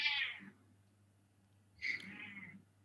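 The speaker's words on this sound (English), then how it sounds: "I'm hearing a weird noise. I'm not sure. Is that a cat?" A cat gives two meows, each a short rising-then-falling call with a quiet gap between them, set against a steady low hum in an indoor setting.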